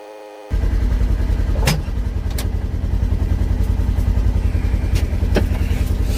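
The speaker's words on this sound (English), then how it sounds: "Alright, move our truck." A truck engine catches and settles into a loud, steady idle as the truck is moved during snow plowing, with a few clanks and knocks over the constant rumble.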